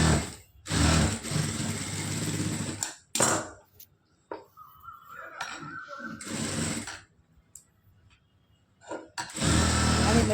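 A sewing machine runs in short, loud whirring bursts while stitching a lined blouse, with quiet gaps and small clicks and handling noises between the runs.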